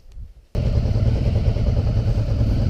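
Honda Africa Twin motorcycle with a failing regulator, starting after a brief quiet moment and then idling close by, a loud, steady, slightly lumpy engine rumble with clattering.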